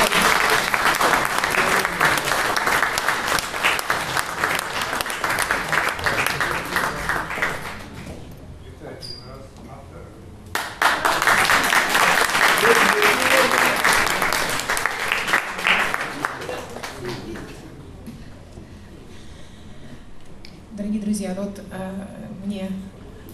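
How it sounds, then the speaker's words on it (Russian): A concert audience at a guitar-and-poetry tournament applauds loudly in two long waves of dense clapping separated by a short lull, with a brief voice near the end. "под вашим громким аплодисментом"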